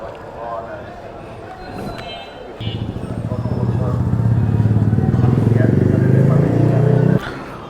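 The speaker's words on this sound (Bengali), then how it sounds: "তো চলেন বাইকে নিয়ে যাই হলো মিরপুর 11" A motorcycle carrying a passenger rides through Dhaka city traffic toward Mirpur 11, its engine starting up and droning steadily louder up close while someone talks over the ride.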